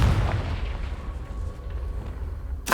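An explosive Confringo spell in Hogwarts Legacy, heard as a booming, rumbling blast that rolls on for a couple of seconds before a fresh sharp burst hits right at the end.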